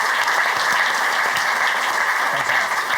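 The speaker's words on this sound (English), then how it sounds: "can we just have a round of applause, first of all?" Dense, steady applause from a studio audience fills the space, loud and continuous without a break, with no voices standing out over the clapping.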